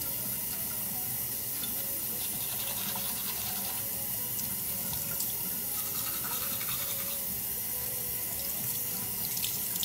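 Cold water runs steadily from a tap into a sink, a continuous close hiss and splash with no breaks and no talk.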